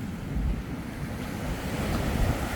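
Fairly large waves breaking and washing onto the coarse, gravelly sand of Pandawa Beach in Bali, a constant roaring surf mixed with gusty wind noise on the microphone.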